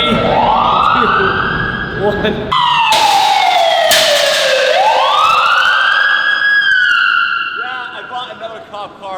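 A retired LAPD police car's siren wails loudly nearby, sweeping up and down in pitch, with voices counting and talking over it.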